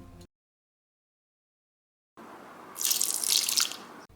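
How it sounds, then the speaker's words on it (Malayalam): Water splashes into a mixer-grinder jar while orange juice is being made, a short close pour of about a second that follows a long silent gap. "മിക്സിയുടെ ജാറിലേക്ക് ഞാൻ 1/4 ഗ്ലാസ് വെള്ളം ഒഴിച്ചു"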